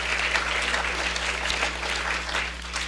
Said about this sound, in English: I think we all ought to give them a period of applause.